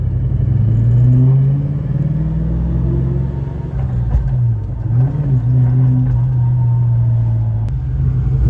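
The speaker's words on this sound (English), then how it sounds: "Oh, this car sounds so good though." A Ford Mustang Cobra with a 2.2 kit engine rumbles deep and loud while driving, revs rising and falling in waves, heard from inside the car.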